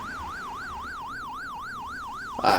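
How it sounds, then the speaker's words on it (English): Pac-Man arcade game siren, a steady electronic tone sweeping up and down in a fast even wail while the character isn't eating, looping continuously and loud, with a brief burst of another game sound at the very end. "I do really not like this siren-esque sound you get when he's not eating anything"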